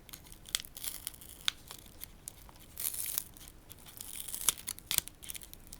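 Packaging of a Body Series 3-in-1 soap bar is opened, with close, faint crinkling and tearing and a few sharp crackles, irregular and continuous.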